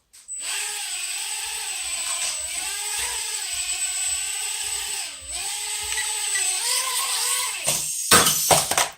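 A mini car drone, model WDS132, flies with a high, whining buzz of small motors and propellers that rises and falls in pitch for several seconds before cutting out with a few clattering knocks at the end.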